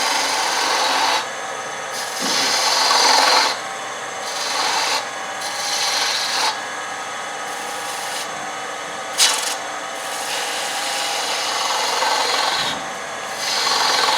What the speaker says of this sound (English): This is just your standard spindle gouge. Kind of a detail gouge.